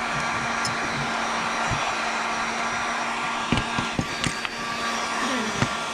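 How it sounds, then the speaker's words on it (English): A heat gun warms the end of a hose on a truck-bed job with a steady blowing whine and hum, and a few light knocks and clicks near the end. "now we can take our heat gun and heat just the end of the hose"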